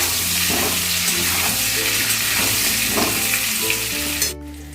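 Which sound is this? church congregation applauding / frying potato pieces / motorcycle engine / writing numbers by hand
frying potato pieces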